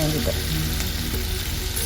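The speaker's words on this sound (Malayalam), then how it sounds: "ഓയിൽ നന്നായി ചൂടായതിന് ശേഷം നമുക്കതിലേക്ക് കോളിഫ്ലവർ ഇട്ട് കൊടുക്കാം." Cauliflower pieces frying in hot oil, a dense, continuous close sizzle that stays steady through the moment, with a brief spoken word over it.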